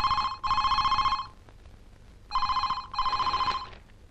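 An old-style telephone bell rings in two long bursts separated by a short pause, loud and close in a household scene, with no one speaking over it.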